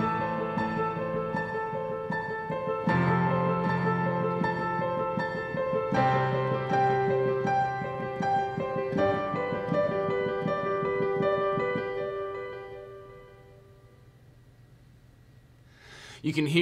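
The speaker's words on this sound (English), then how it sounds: "I've just dialed up a big grand piano. I've added some reverb to it. I've also added a delay that's set to quarter notes," Ivory grand piano plugin with reverb and a quarter-note delay plays a sequence of chords and notes, each echoing in a soft repeating trail that fades out into a long reverberant decay.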